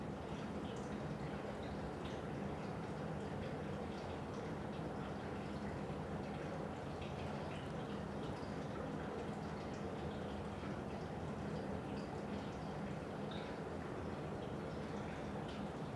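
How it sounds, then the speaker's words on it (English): Water runs steadily in the background inside a funeral home, a constant broadband wash with faint dripping and gurgling that stays level and unbroken throughout. "water in the background is going to create pareidolia"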